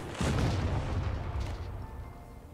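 A deep explosion in a video game booms up suddenly and rumbles on, slowly fading into a low roar.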